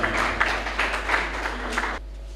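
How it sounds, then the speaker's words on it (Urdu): Applause from an audience at a poetry gathering (mushaira) at a press club, a steady wash of clapping lasting about two seconds and then stopping abruptly. "ان کے لیے بھرپور تالیاں جی۔"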